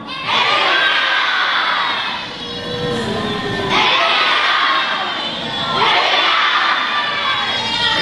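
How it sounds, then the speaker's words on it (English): A children's audience yells together in loud bursts at a church teaching session on the end times, three swelling rounds of shouting and cheering close by, with no clear single voice. "So when I hold up this sign, everyone has to yell, every eye."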